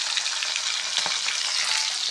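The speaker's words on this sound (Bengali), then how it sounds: "মাছ প্রায় ভাজা হয়ে গেছে।" A dense, steady hiss of sea fish frying in a pan, close and unbroken, with occasional sharper pops and no speech.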